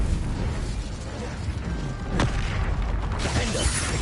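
Incendio fire spell cast in the Hogwarts Legacy video game: a sharp burst near the middle followed by a rushing, crackling flare, set against continuous dense game noise and combat effects.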